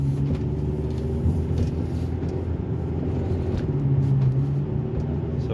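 Hyundai Tucson cruising at about 30 mph, a steady, continuous road rumble and tire hum from inside the cabin with a low drone throughout and no talk.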